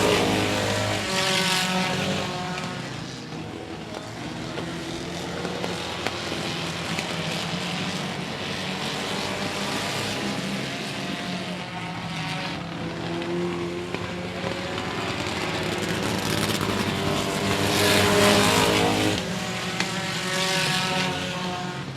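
Race cars roar around 105 Speedway as three battle for the lead, a loud, continuous engine drone with rising and falling pitch as the cars pass close by.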